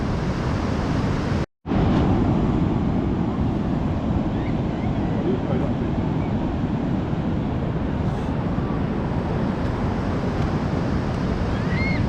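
Ocean surf breaking at Perran Sands beach in Cornwall, a steady broad roar of waves with wind buffeting the microphone and one brief dropout near the start.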